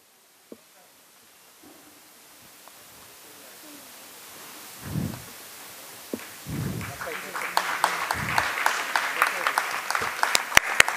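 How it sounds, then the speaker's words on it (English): Audience at an awards ceremony for music and arts breaking into applause, starting quiet and scattered with some low thuds and shuffling, then building into steady clapping with sharp claps near the end. "A huge round of applause."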